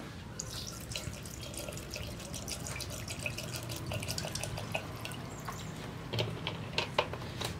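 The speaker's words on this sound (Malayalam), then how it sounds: "ഇനി നമുക്ക് കുറച്ചുകൂടി വെള്ളം ചേർക്കാം" Water is poured into grapes for homemade red wine, a steady close trickle and splash with scattered drips and small clinks running throughout, no one speaking.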